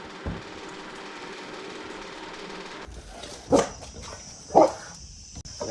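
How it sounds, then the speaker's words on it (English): A dog barks twice from outside the property, sharp and moderately distant, after a stretch of low background noise. "That doesn't sound like a bark from inside the property."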